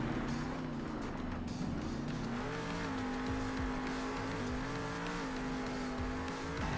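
Monster truck engine from Monster Jam Steel Titans 2 roars steadily while spinning double-wheel donuts, a continuous loud revving drone with rising and falling pitch, alone with no talk.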